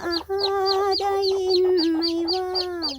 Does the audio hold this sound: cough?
no